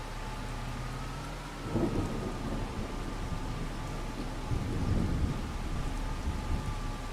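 A rainstorm on a Farming Simulator 25 farm, with a steady hiss of rain and low thunder rumbling twice, once early and again near the end, and no voices heard.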